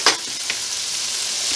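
Shallots sweat in a hot pan for beef stroganoff, giving a steady, close sizzle and hiss throughout, with a quick stir clatter right at the start.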